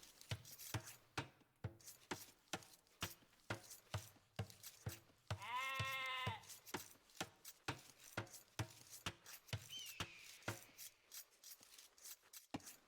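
Sheep in Age of Empires give a single clear bleat midway, set against a steady rhythmic rasping scrape that repeats throughout, with a faint second call near the end.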